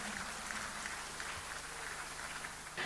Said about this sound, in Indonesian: Kita beri aplaus untuk anak-anakku semuanya